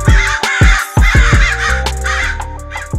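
Crows caw repeatedly in loud, harsh bursts, several calls overlapping close by against a steady outdoor background, with no talking.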